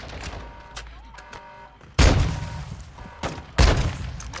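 Gunfire in a video game, with two sudden loud blasts that have broad, booming tails, over a busier background of smaller game sounds and brief tones.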